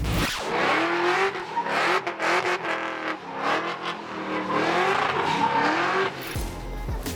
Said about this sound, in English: Let's get to what the people want to see. Burnouts.